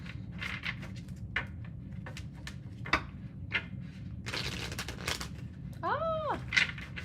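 Tarot cards being shuffled by hand, a run of soft riffling and tapping bursts with a denser flurry midway, over a steady low background hum, ending with a brief tonal chirp.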